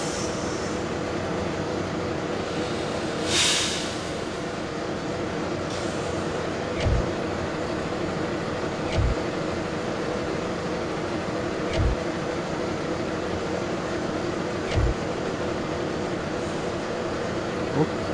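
A simulated freight train hauling 15 kettle wagons rumbles along steadily, with a low, continuous drone and periodic rhythmic clunks of wheels over rail joints.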